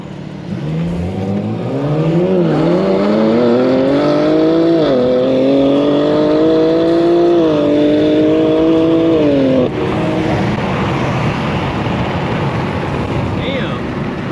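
BMW M340i with downpipe and G82 M4 Competition launching in a street race, a loud engine note rising steadily in pitch through hard acceleration for several seconds before cutting off, then fading to road and crowd noise with voices talking.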